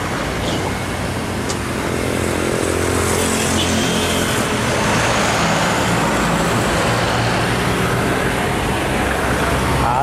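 Heavy road traffic, including logistics trucks, rumbles past on a busy Indonesian highway during the 2023 holiday homecoming travel season. The roar of engines and tires is loud and continuous, and passing vehicles keep it going throughout.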